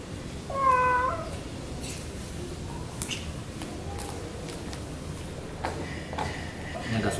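A cat meows once, clear and close, while being given medicine indoors, followed by soft shuffling and light taps as it is handled; a person speaks quietly in the background.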